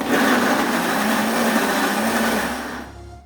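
A kitchen blender whirring steadily while mixing mayonnaise, a loud continuous motor drone that winds down and stops near the end.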